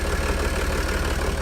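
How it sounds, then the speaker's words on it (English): A Ford Powerstroke 4.5 V6 diesel engine runs at a steady idle, a loud, close, even rumble with a regular low pulsing throb and no talk. "There you go guys, it's the engine running."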